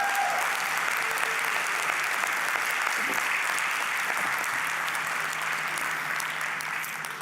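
Sustained applause from a large audience at a graduate studies commencement ceremony, a dense steady wash of clapping throughout that tapers slightly at the end, with no voices.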